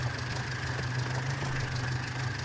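An idling tractor engine hums steadily at low volume with an even, continuous drone and faint knocking texture, no voices over it.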